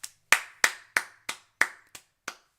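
Eight sharp hand claps struck close to a microphone, loud and slightly irregular in spacing, each with a short ringing decay and no talk.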